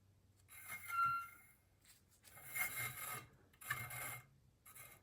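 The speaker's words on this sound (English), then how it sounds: "And how to decide that is where this caliper starts to rub." Bicycle wheel rim rubbing against the caliper of a truing stand as the wheel spins, faint rasping scrapes recurring in separate passes with near-silence between them.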